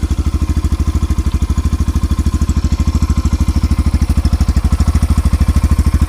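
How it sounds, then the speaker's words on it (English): A 2021 Yamaha FZ S V3 motorcycle idling, its exhaust thumping in a fast, even pulse, loud and close, running steadily alone throughout. "let's see today Yamaha FZ S version 3 2021 model, its exhaust sound. So let's start the engine."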